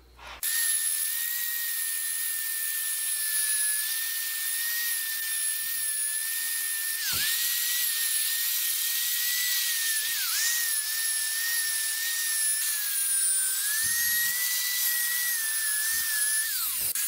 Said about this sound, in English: it's time to sand